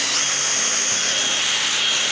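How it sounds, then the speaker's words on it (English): A power drill whines loudly and steadily up close, its high pitch holding and shifting slightly as the bit bores in. "we're going to go ahead and drill some holes"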